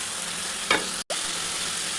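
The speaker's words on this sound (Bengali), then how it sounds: "দিয়ে এটাকে ভালো করে মিক্স করবো।" Spices including chili powder fry in a kadai for a potato and pointed gourd curry, giving a loud, continuous close sizzle with a brief stirring scrape and a momentary drop-out.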